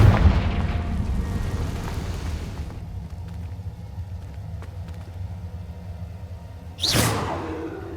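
A Confringo fire-blast spell in Hogwarts Legacy bursts with a loud rumbling whoosh that fades into a low ambient drone, followed by a sharp swooshing burst near the end.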